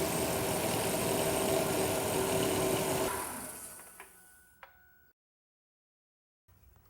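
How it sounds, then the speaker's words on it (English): A 1995 Ford Explorer with one dirty fuel injector idles with a steady engine rumble, then is switched off; the sound fades over a couple of seconds with a few faint clicks, leaving near silence. "Let me go ahead and shut the engine off."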